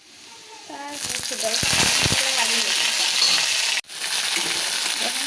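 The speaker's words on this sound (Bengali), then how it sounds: "শীতলটা আমি চলো ভালো করে বাজি দিই" Chital fish fries in a pan with a loud, steady sizzle and crackle that swells after the first second and continues close up, with brief stirring clatter and a faint voice beneath.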